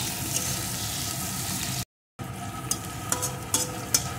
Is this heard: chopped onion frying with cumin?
yes